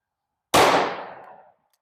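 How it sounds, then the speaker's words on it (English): A single loud gunshot from a Smith & Wesson Model 69 Combat Magnum 2.5-inch revolver firing .44 Special Gold Dot ammunition, a sharp crack that rings and decays for about a second before silence. "69 Combat Magnum, shooting for practical accuracy here and some numbers."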